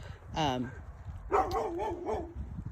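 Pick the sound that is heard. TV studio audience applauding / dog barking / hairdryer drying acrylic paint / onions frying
dog barking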